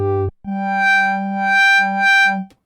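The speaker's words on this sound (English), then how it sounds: "the fat will move with the breath to a certain extent" A Roland MC-101 synth patch is played through an EWI 5000 wind controller, a buzzy sustained tone held after a short opening note, its brightness swelling and fading in waves with the breath.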